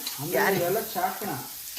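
Animal fat frying and stirred in a pan, a steady sizzle with soft scraping strokes over the short span, fairly close and moderately loud.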